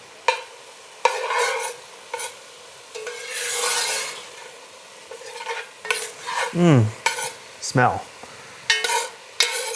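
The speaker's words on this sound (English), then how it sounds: "you can really just stir this all together at this point" A spoon scrapes and stirs tomato paste caramelizing in a hot pan, in repeated rough strokes over a soft sizzle, close up, with a brief word spoken partway through.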